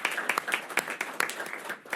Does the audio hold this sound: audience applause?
yes